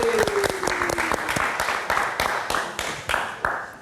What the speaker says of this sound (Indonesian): kita kasih tepuk tangan sekali lagi untuk Valerie.